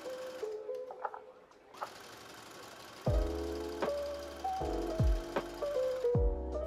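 A sewing machine zigzag-stitches elastic onto a wedding dress bustier, running in several short bursts with a steady mechanical whir and rhythmic needle clatter, close by, starting and stopping between passes.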